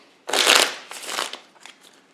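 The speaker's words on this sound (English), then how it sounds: "These are the Lifeform cards and they make up your hand. We're going to give this a shuffle." Lifeform game cards being shuffled on a tabletop, a loud riffling burst followed by two shorter, softer shuffles, close and with no talking.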